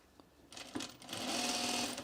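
A sewing machine stitches a curved seam on a color block top, starting after a few faint clicks and building into a steady, fast whirring run that holds to the end, close and moderately quiet.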